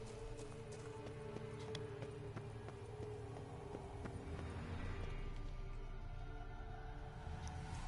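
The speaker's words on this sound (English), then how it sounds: "Horse." A horse in The Witcher 3 clip-clops in a quiet, steady hoofbeat rhythm over a low game soundscape, faint and fairly close.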